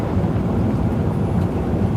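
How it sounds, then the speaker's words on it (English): Steady wind blowing outdoors during a drive through Arizona, a continuous low, rumbling buffeting roar, loud and close like gusts hitting a microphone, with no talking. "It is windy."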